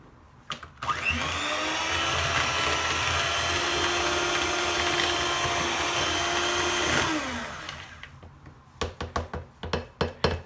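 Electric mixer whirring steadily through cookie dough as flour is gradually added, a long even motor drone that winds down and stops, followed by a few clattering knocks.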